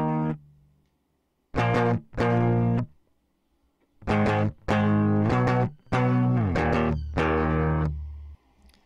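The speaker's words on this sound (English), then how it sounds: "Got a very raw DI recording of a guitar." Raw, unprocessed electric guitar recorded direct, clean plucked notes and chords in short separate phrases with gaps of near silence between them, close and dry with no amp colour.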